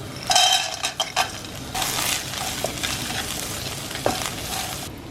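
Fried rice with peas, scrambled egg and soy sauce being stirred in a hot pan, a steady sizzle with scraping stirs and a few light clinks of the utensil against the pan, close by, no talk.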